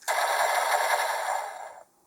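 A DonBrothers DX Omikoshi Phoenix toy plays an electronic explosion sound effect, a bright, crackling burst lasting under two seconds at steady loudness before cutting off, heard up close with no talking.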